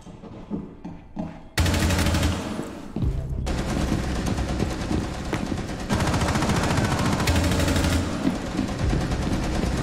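Rapid bursts of automatic gunfire from a first-person shooter video game, loud and sustained over several seconds after a brief quieter stretch, with no talk over it.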